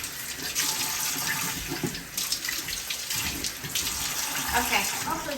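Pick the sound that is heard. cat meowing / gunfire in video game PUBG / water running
water running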